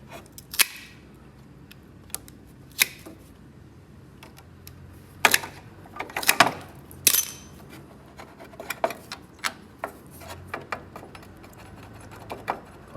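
Engine hoses are cut off a VW Type 4 engine from a Porsche 914, heard as scattered sharp snips and clicks with metallic taps, near and fairly quiet between the bursts.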